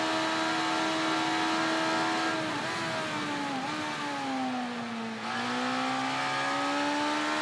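A motorcycle engine races in the Ride 3 video game, early-1990s career mode, holding a steady high whine that dips and climbs again through gear changes and engine braking into corners, loud and continuous with no voices.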